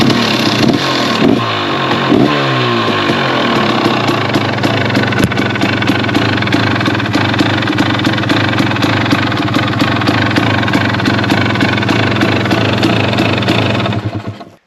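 A motorcycle engine fitted with a Smartcarb SC2 carburetor idles outdoors, close and loud, with a steady uneven putter and a few brief blips of revving early on, running alone until it cuts off at the end.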